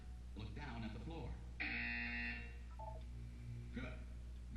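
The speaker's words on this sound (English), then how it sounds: "When you hear the buzzer, look down at the floor." A Portal 2 test-chamber buzzer sounds once as a short, loud electronic tone in the middle of the stretch, with a calm synthetic voice speaking before and after it.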